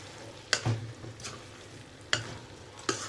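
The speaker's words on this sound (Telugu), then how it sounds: "ఒకసారి మళ్ళీ కలుపుకొని" Chicken fry with curry leaves being stirred in a pan at home, a soft steady sizzle broken by several sharp scraping stirs spaced about a second apart.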